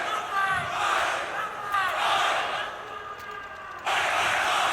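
Esports arena crowd at a CS:GO match between Complexity and Grayhound at ESL Challenger Melbourne, cheering and roaring in rising waves, loud and sustained throughout.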